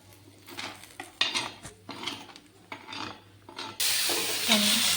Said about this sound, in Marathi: मसाला परतत आहे आता तव्यावर.